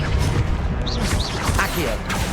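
The Confringo explosive spell in Hogwarts Legacy, cast amid rapid combat with crashes and mechanical impacts layered over a steady loud game background, plus whooshing magical tones.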